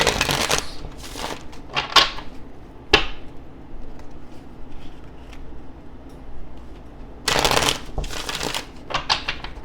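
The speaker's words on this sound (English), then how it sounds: "2 more shuffles for my Scorpios." Papery riffling bursts of tarot cards being shuffled, a long flurry at the start and another near the end, with a sharp tap between and quiet gaps.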